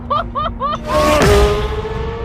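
A 2023 Corvette Z06 V8 revs sharply toward high RPM after a few short blips, a loud, rising wail that peaks and then falls away, with excited voices faintly around it.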